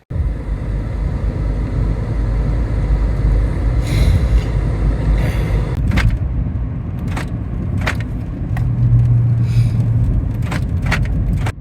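A frozen car's engine idles to warm up on a freezing, windy winter day. A steady low rumble runs throughout, broken by scattered sharp clicks and jangles, with no talking.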